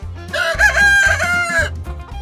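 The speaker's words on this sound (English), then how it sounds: "Roosters crow to say good morning." A rooster crows once, loud and close, a bright strained cock-a-doodle-doo lasting about two seconds.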